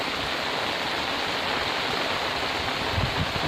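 Heavy rain with big drops falls on an open farm field in a village, a dense, steady wash of noise that stays even and unbroken from start to finish with no voices.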